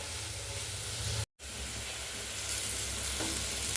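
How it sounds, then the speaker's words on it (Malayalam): Pepper beef roast stir-frying in a pan gives a steady close sizzle with stirring scrapes, broken by one brief gap before the frying resumes. "നന്നായി അത് വഴണ്ട് വരട്ടെ."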